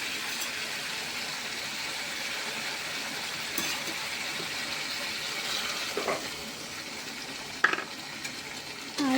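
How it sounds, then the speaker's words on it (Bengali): Curry masala frying in a pan as a little water is added, a steady close hiss and sizzle with a few soft clinks of stirring near the end, no voices. "একটুখানি জল দিয়ে দিলাম"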